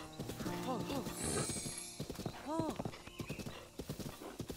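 A horse in Zelda: Breath of the Wild clip-clops with hooves and whinnies twice in clear, loud neighs, while an Italian-speaking player talks over it.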